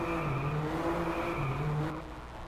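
A BMW M4 3-litre twin-turbo six-cylinder engine in the Drive Club video game revs in a loud, sustained tone that rises and falls with gear changes, then tapers off.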